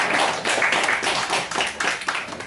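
Gathered pastors and attendees at a missionary training meeting clap to welcome a visiting pastor, a brisk, fairly loud burst of applause with irregular, overlapping claps from a smallish group, close and lively.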